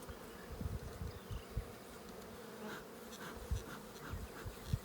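Honeybees buzzing around an open hive during a swarm inspection, a soft, steady drone with individual bees flying past the microphone, faint and close, no voices.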